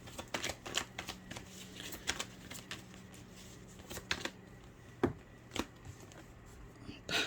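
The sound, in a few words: shuffling and drawing tarot cards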